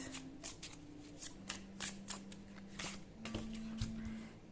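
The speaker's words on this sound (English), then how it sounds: "So let's get some cards." Tarot cards shuffled and drawn from a deck, a close run of soft riffling flicks and slides repeating in quick bursts, fairly quiet with a faint hum underneath.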